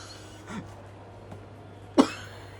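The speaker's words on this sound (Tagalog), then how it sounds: "Pangalawang tip ay sabayan mo ng ubo." A person gives a few quiet coughs followed by one loud, sharp cough, staged to cover a fart, close and with no talking.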